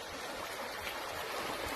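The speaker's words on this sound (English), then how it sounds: "That is the amount of water running down these paths." Water running down a hiking path on the Appalachian Trail, a steady, close rushing and trickling wash that continues without a break and with no voices.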